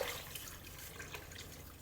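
Water is poured from close by into a cooking pot over a pork leg, a soft continuous pouring and trickling that stays fairly quiet throughout.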